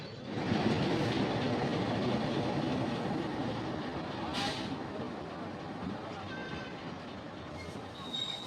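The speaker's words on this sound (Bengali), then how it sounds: "এই দেখো চলে আসছে আমরেলি বিরাবল প্যাসেঞ্জার" An Amreli–Veraval metre-gauge passenger train rolls into a junction station with a continuous loud rumble and clatter of wheels, a brief squeal midway and thin wheel screeches toward the end, with voices faintly underneath.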